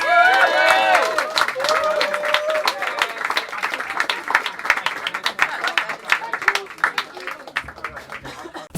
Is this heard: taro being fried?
no